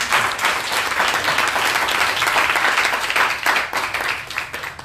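A church audience applauds and acclaims Jesus, a loud, continuous wash of many hands clapping that holds steady throughout with only slight swells.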